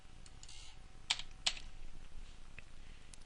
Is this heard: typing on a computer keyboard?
yes